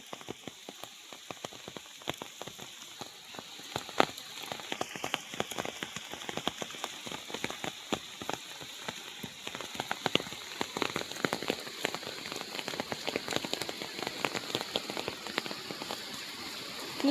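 Heavy rain pours down in a forest, a dense, steady patter of drops drumming on leaves and ground, loud and unbroken, with no voices.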